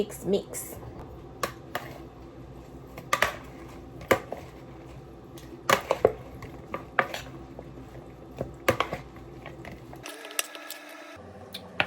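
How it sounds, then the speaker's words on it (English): Chicken salad with dressing being mixed with two wooden spoons, a series of sharp clacks and taps of the spoons against the bowl in irregular bursts, close by, with a voice talking over it. "Now I'm going to get 2 spoons or 2 wooden spoons, and we're going to mix."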